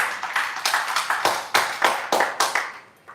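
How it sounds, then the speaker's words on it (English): A small audience at a wellness event claps in a loose, uneven rhythm, about a dozen distinct close-up hand claps spread over three seconds before stopping. "let's clap if you have to clap"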